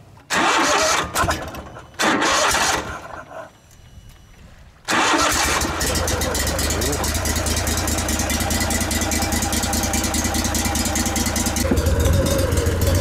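A long swamp boat's engine is cranked in two short bursts that fail, followed by a pause, then catches and settles into a loud, steady, close idle with a deep drone, out on the water during a fishing trip near Astrakhan.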